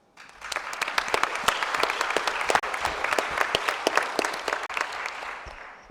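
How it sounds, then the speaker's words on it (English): Audience applause for presenters at a supply chain management conference session, crisp individual claps from a modest crowd that start abruptly, hold steady, and taper off near the end. "I want to ask for a strong applause for the presenters"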